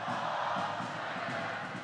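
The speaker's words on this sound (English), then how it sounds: "Just listening for a second to the chants going on in the crowd" Crowd chanting at a women's volleyball match in a university Roses sports competition, a steady, dense wash of many voices that stays loud and unbroken from start to finish.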